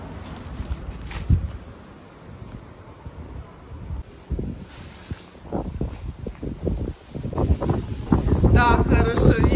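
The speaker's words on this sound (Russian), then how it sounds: "Так хорошо ветер обдувает" Gusty wind buffets the microphone with low rumbling bursts that grow stronger toward the end, with rustling and faint background activity, in Yevpatoria, Crimea.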